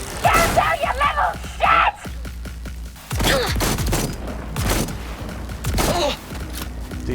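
Shotgun fire in the video game Cyberpunk 2077: several loud, close blasts come in separate bursts with short gaps between them, mixed with shouting and yelling voices.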